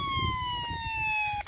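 A pest-repelling device in a Japanese rice field gives off a siren-like electronic wail, a steady tone gliding slowly downward over low rumbling wind noise before it cuts off abruptly.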